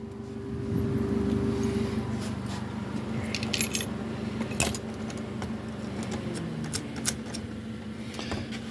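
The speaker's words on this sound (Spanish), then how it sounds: "se me están cayendo las llaves" Keys drop and jangle outside a mobile home in Lakeland, with several bright metallic clinks and rattles scattered through the middle, over a steady hum of nearby traffic.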